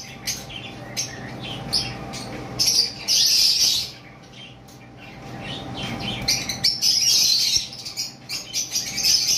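Lovebirds in a bird shop chirp in bursts of shrill, high chatter, loud and close in stretches with quieter gaps of softer background noise between them.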